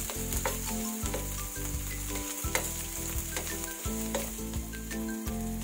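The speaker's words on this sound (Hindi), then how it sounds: "अब ये लहसुन और अदरक फ्राई हो चुके हैं।" Garlic and ginger frying in oil in a pan while making an onion tomato masala gravy: steady close sizzling with stirring clinks and scrapes, fairly quiet and without talking.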